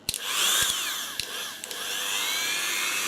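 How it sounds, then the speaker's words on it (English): A Dremel rotary tool whines at high pitch as it cuts into an audio amplifier kit board, with a steady sustained grinding tone broken by a few short clicks and brief dips. "bit of Dremel time"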